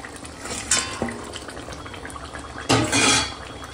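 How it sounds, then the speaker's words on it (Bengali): Fried rohu fish pieces drop into a boiling vegetable curry with ridge gourd, papaya and green banana, giving a couple of wet splashes and a louder plop over a soft bubbling simmer. "তো দেখো এখন ঝোলে জাল উঠে গেছে আর সব সবজিও সিদ্ধ হয়ে গেছে। এই যে তো এখন দিয়ে দেবো এই যে ভেজে রাখা মাছ।"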